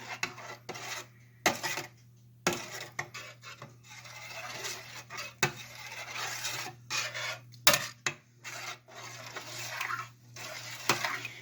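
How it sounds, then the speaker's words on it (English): Hot dog chili sauce stirred in a pot, the spoon scraping and rasping against the metal in irregular strokes, close and fairly loud with no voices. "Stir that up."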